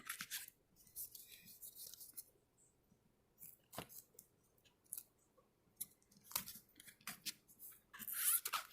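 Scissors snip around the edges of a duct tape bag in quick, crisp cuts, close and fairly quiet, with short pauses between bursts.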